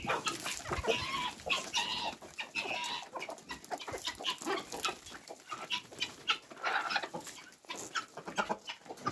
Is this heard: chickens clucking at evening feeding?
yes